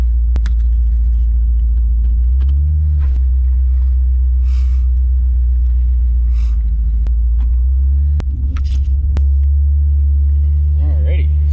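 A V8-swapped 1986 GMC S15 Jimmy rolls along with a deep, steady engine rumble and low exhaust drone throughout, plus a few knocks and thumps as it drops off a curb into a driveway; a voice talks briefly over it.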